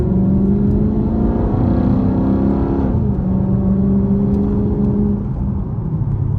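A 480hp Dodge Charger SRT8 drives and accelerates, its engine holding a steady loud drone that climbs in pitch, dips briefly, then settles into a continuous cruising hum, with no voices.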